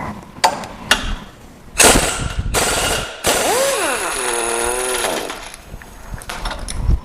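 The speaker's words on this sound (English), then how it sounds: "Sometimes things get really stuck and you need a little bit more power, so I've got the impact wrench out now." An impact wrench works at stuck bolts on a Jeep bumper: several sharp, loud bursts, then a longer whirring run with rising and falling pitch, close by.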